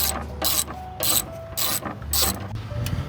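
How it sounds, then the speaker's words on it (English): A ratchet fitted with a 1/2-inch socket works loose hose clamps on a charge air cooler line of a CAT engine, giving about five quick bursts of close, loud clicking separated by short pauses. "Just pop these clamps loose, 1/2-inch socket."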